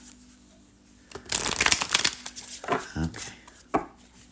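Oracle cards are riffled and shuffled in quick, crisp bursts of papery flicking, several short runs close by and fairly quiet, with no talking over them.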